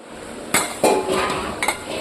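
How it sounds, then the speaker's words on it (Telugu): A metal pot lid is lifted with tongs over simmering drumstick curry, giving a few sharp metallic clanks and scrapes spaced over two seconds, close and clear against a low background hiss. "ఇక్కడ నేను మూత కాలుద్దామని గంటితో తీస్తున్నాను"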